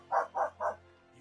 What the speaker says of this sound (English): So those are my dogs. Really going at it. I'm assuming you can hear that.